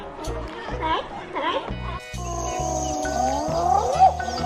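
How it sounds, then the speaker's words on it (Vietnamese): A hyena gives a series of whooping, giggling calls over rhythmic background music, with the calls growing louder and more drawn out toward the end. "Con linh cẩu."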